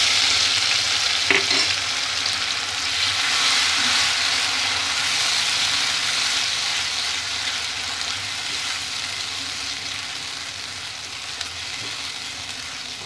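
Spice paste with green chillies fries in hot oil in a pan, giving a steady, loud, close sizzle that runs unbroken, with a faint utensil tap early on.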